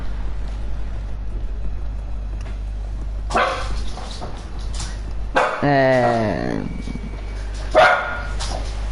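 A dog gives a few short barks and a drawn-out whining yelp over a constant low electrical hum indoors, with brief movement noises in between.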